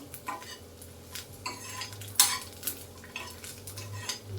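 Garlic fries in oil in a pan while being stirred for palak chutney, giving soft scraping and clinking of a utensil against the pan over a faint sizzle, close and fairly quiet.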